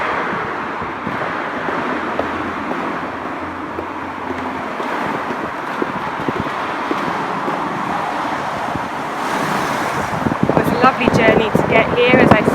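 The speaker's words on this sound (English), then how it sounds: "I don't know if you can hear me over the traffic" Continuous city traffic in Melbourne rumbles and hisses nearby with passing cars and wind buffeting the microphone; a voice speaks over it toward the end.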